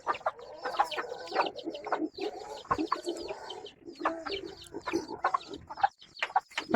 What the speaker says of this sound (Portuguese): Essa franguinha tá chocando.